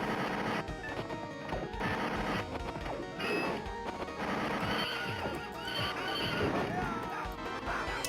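Knights of the Round video game audio: horse neighs and whinnies with galloping hoof clatter mixed into busy game music and impact sounds, while a person talks over it throughout.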